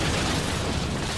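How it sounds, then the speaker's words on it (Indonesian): Explosion in an anime-style Iron Man battle scene: a loud, dense, sustained roar of blast noise filling the whole moment without letup. "Namun sialnya di saat ingin mencari Tony, ada ledakan di sana."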